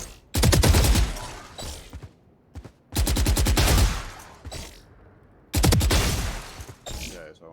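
Burst gunfire in the shooter game Valorant comes in three loud, close volleys of rapid shots, each roughly a second long and separated by short near-silent gaps, with faint clicks between.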